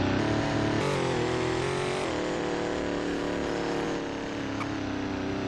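A steady, loud engine drone from a 2021 Dodge Durango SRT SUV driven in Roblox Greenville, with slight shifts in pitch as it accelerates and holds speed, and no talk over it.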